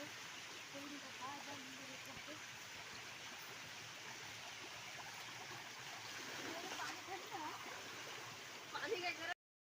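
A small stream in the Konkan countryside flows with a quiet, steady trickle and gurgle, constant throughout, with a brief louder disturbance near the end.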